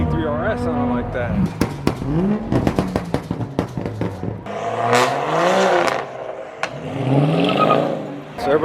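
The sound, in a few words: cars revving exhausts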